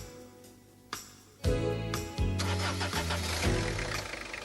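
A Peugeot 605 2.5L turbo diesel with Bosch VP36 injection cranks with a few separate turns, then catches and runs up to a loud, steady diesel idle with a rhythmic knocking clatter.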